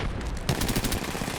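Rapid gunfire from an Apex Legends match, a short burst of closely spaced shots that starts abruptly halfway in and rattles loudly to the end.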